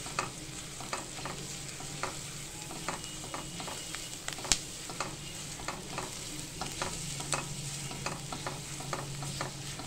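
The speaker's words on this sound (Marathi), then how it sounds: "खरपूस अशी आपण ही पेस्ट छान भाजून घेणार आहे, खोबऱ्याचा खमंग वास सुटेपर्यंत।" Coconut paste roasting with onions in a pan for a ridge gourd and lentil dish, a soft steady sizzle broken by frequent sharp scraping taps of a spatula stirring against the pan.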